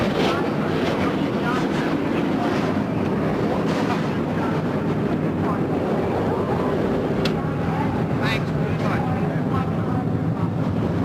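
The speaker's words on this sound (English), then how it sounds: "And the 40 cars fire to life here" A dense, steady roar of 40 race car engines firing up together at the start of the 1996 Pontiac Excitement 400 fills the air, loud and unbroken, with indistinct voices mixed into the din.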